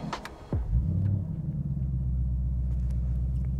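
A Ford Mustang Mach 1 V8 cranks over and catches, bursting into a deep, loud rumble that settles into a steady, throbbing idle close by.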